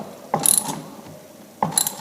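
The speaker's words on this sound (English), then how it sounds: "we'll tighten up the puller with my 11/16 socket and ratchet" Socket ratchet, 11/16 size, tightening a puller on an 87cc small engine: two short bursts of rapid clicking, a clear pause between them, close and alone.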